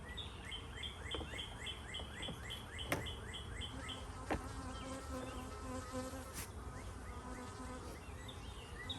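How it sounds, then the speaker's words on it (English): Many bees buzz in and around a hive in a backyard, a continuous wavering drone with overlapping wingbeat tones, joined by a few faint bird chirps and occasional sharp clicks. "There's a lot of bees in here."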